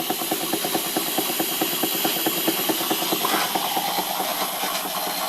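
A Stuart Victorian steam mill engine runs with a fast, regular chuffing beat of steam exhaust over a continuous hiss, heard close and steady without any speech.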